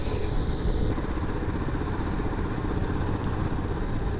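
A motorcycle engine drones steadily and loudly throughout, with wind rush and no breaks, during a ride along a high mountain road in the Chopta area.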